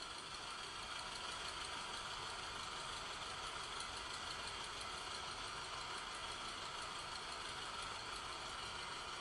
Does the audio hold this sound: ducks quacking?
no